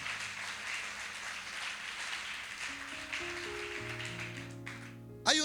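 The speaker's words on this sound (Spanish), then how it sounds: "¿Cuántos le dan un aplauso al Señor por esto?" Congregation applauding at a Christian church service, a soft wash of many hands clapping, moderately distant, with sustained organ or keyboard chords entering beneath it toward the end.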